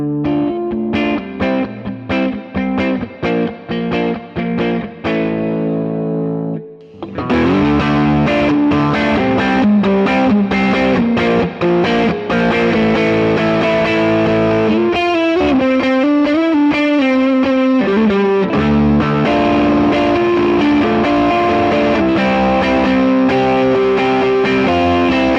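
Electric guitar played through a Browne Amplification Protein V3 overdrive pedal at high gain, loud and continuous distorted chords and riffs, a brief pause near seven seconds, then sustained saturated playing with bends; no talking.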